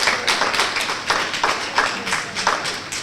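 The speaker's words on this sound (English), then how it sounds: "let's clap on that" Scattered audience clapping during a scholarship event talk, with uneven taps and small bursts at irregular intervals and no speech over it.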